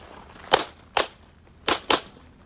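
Pistol shots at a competitive shooting match stage, four sharp, loud reports in two uneven pairs with brief gaps between them.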